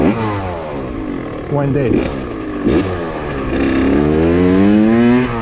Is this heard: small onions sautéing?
no